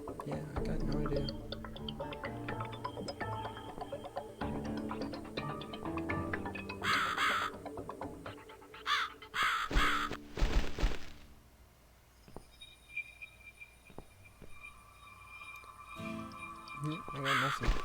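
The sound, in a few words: crow cawing in video game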